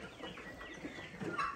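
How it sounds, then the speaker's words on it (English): Chickens on a small farm in Ghana, with a turkey nearby, giving faint, brief clucking calls in the background. "We got the turkey over there making noise."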